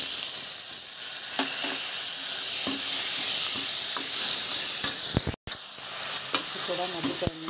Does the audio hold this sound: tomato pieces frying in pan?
yes